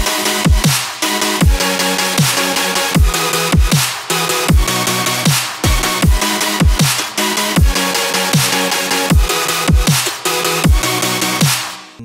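A loud future bass drop pounds along with layered saw synth chords, punchy kicks and percussive Foley hits in a steady, pumping rhythm, with heavy sidechained swells and no talking.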